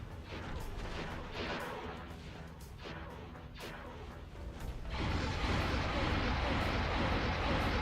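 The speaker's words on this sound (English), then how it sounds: "I love the sound effect of getting hit." Impact effect of a battle cruiser taking a hit in the space game X4, a loud crashing burst that swells into a sustained roar of debris and rumble, with speech running beneath.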